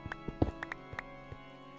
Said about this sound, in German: Ich höre ein Pferd.